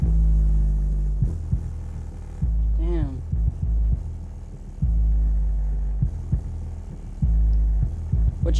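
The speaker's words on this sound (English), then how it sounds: "What you hear rattling is my whole house, not the bucket." Deep subwoofer bass from a bucket-style speaker box, heavy throbbing low pulses in repeated bursts with pauses, rattling the surrounding house, loud and close.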